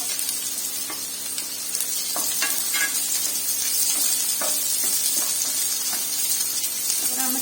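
Chopped onion and capsicum sizzle and fry in a pan for veg Manchurian, a steady close hiss with occasional stirring scrapes and soft knocks throughout.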